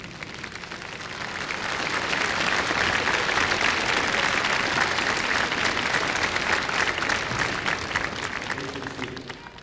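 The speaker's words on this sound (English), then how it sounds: "Give them your applause." A large convocation crowd in a gymnasium applauds the people who supported the graduates, sustained loud clapping that swells within a couple of seconds, holds steady and begins to fade near the end.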